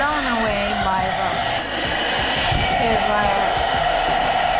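A Philips SenseIQ smart hair dryer runs steadily at close range, a loud, rushing airflow with a whining motor tone that holds constant throughout with a brief dip in the middle.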